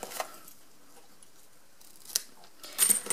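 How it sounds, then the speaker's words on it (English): Scissors snip the ends of satin ribbon, giving a few crisp, close cuts separated by quiet, with a quicker pair of snips at the end. "trim the ends."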